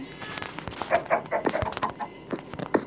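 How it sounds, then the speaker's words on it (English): Choppy, repeated clucking from a video game chicken, close and fairly loud, in short irregular bursts with no talking. "this is my chicken"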